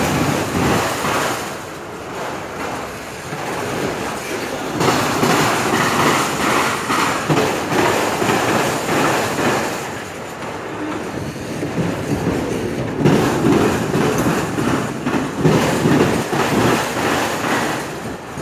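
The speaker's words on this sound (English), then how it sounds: "Get the train past that diamond" A loud CSX autorack freight train rumbling on the rails as it starts moving again in Marion, Ohio, with steady clattering and rhythmic clickety-clack of wagons over joints throughout.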